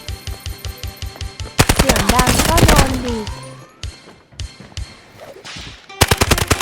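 Automatic gunfire from the mobile shooter game Delta Force Mobile, with rapid close bursts at the start, a long dense volley in the middle, and a final burst at the end, while a player talks over the shots.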